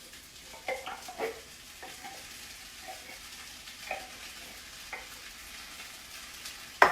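A spoon stirs a pound of browned ground beef with a can of cream of mushroom soup in a pot, soft intermittent scrapes and thick squelches over a faint sizzle, with a sharper clack at the end.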